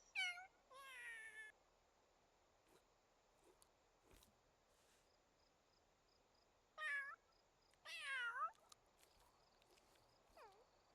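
Cats in The Sims 3 let out a few distinct meows, a pair near the start and a cluster later, clear over an otherwise quiet background.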